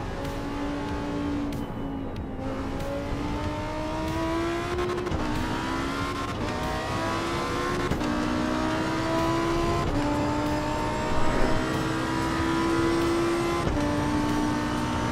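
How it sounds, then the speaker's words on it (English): Lamborghini Revuelto engine revving in a racing game on the Nordschleife, a steady, loud engine note climbing and dropping through gear changes across the whole lap segment, with no talking. "We're driving the Lamborghini in Nordschleife with the Lamborghini Revuelto steering wheel"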